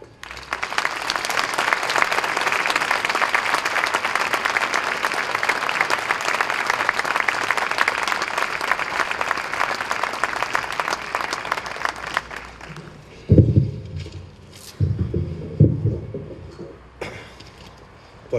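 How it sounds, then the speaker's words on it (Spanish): An audience at the Fiesta de la Vendimia 2021 gives a long, loud round of applause for the festival herald, sustained and dense for about twelve seconds before cutting off, followed by brief knocks and a voice. "demos un fuerte aplauso al que será pregonero de esta Fiesta de la Vendimia 2021"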